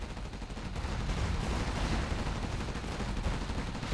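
A particle cannon fires in the Generals Evolution strategy game, a dense roaring blast of noise with heavy low rumble sustained across the whole span, loud and continuous.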